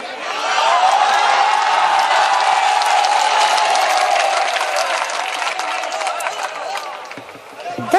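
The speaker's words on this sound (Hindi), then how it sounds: "एक बार पूरा मजमा खड़े होकर तालियां बजा दे।" A large gathering rises to its feet and applauds, a dense, sustained wash of clapping with scattered cheers and whoops that holds steady for several seconds before thinning slightly at the end.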